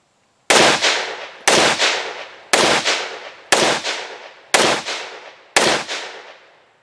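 Six evenly spaced shots from a Ruger 57 LC carbine chambered in 5.7x28mm, each a loud sharp crack followed by a decaying outdoor echo, fired at a steady rhythm with no talking.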